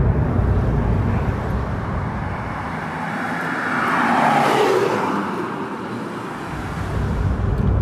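A Porsche 911 Carrera 992 accelerates hard, its engine note swelling into a loud rising roar that peaks midway, then eases as road and wind noise carry on.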